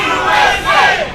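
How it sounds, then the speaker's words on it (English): A live pro wrestling crowd roars and chants at a show, a loud sustained wall of cheering voices that swells and dips across the whole moment. "And listen to the crowd here."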